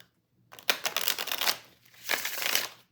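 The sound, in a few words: riffle shuffling a tarot card deck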